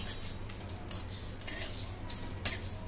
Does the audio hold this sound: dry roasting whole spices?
yes